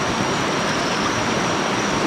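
Shark River in Trinidad and Tobago flows past in a loud, continuous, close-up rush of moving water.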